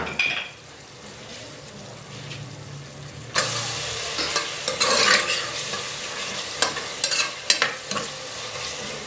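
Coarsely pounded spices go into a hot pot for potato pulao, first a low sizzle, then a sudden louder burst of frying with a spoon scraping and stirring in quick clinks, close up with no talk.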